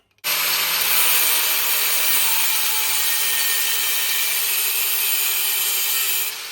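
An angle grinder fitted with a super-thin cutting disc bites into metal box section, producing a loud, harsh, continuous high-pitched screech that holds steady for about six seconds before cutting off.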